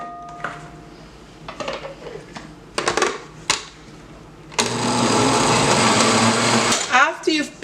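A kitchen blender whirs loudly and steadily as it purees homemade pumpkin soup, after some clattering and knocking of utensils and containers, and the motor winds down near the end.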